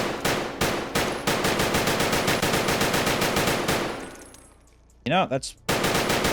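An ADAR rifle fitted with a riser sight fires in rapid strings of loud, close shots in a video game, the bursts trailing off before another short volley, with someone briefly speaking in between.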